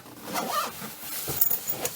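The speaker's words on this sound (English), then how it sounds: "you bring your zippers up here" Zippers pulled along an expandable Away carry-on suitcase during unboxing, a few quick rasping zips close by, uneven and brief, with no talk.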